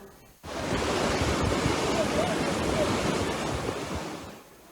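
A steady, dense roar of Kaval Waterfall in Hakkari, Turkey starts abruptly and fills the clip at an even, loud level before fading slightly at the end.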